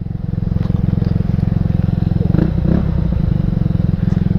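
A Genuine Blackjack scooter engine idling loudly up close with a deep, steady rumbling throb and a slight swell partway through, with brief faint voices underneath.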